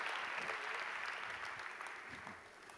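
Sustained audience applause in a live talk setting, a dense wash of many hands clapping at steady loudness that tapers slightly toward the end, with no voices over it.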